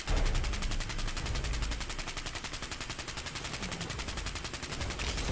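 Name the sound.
Handmade Rifle mag dump, from video game Fallout 4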